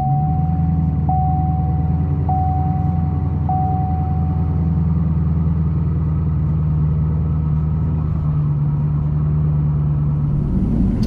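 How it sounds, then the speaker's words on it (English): A car engine runs at a steady, low, rumbling idle just after a cold start, loud and close, with a few evenly spaced dashboard warning chimes early on and no talking. "I'm now gonna start scanning and fire it up because I want it to cold start"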